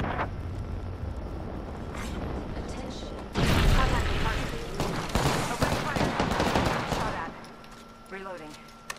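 Gunfire in a ranked multiplayer shooter game: bursts of rapid shots and a heavy barrage in the middle, with a player talking over the action.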